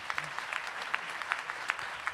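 An audience at a faculty and staff awards event gives a brief round of applause for a nominee, moderate clapping with a few sharper individual claps standing out.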